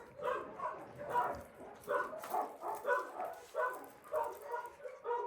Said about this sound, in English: Welcome to my big family, lovely puppy.